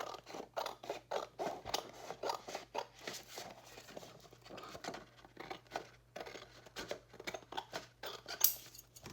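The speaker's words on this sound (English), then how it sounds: "Just going to trim off the excess from the bottom." Scissors trim excess paper from the bottom of a handmade Christmas junk journal cover, producing a close, rhythmic series of crisp snips and slicing strokes repeating over several seconds, with no talking.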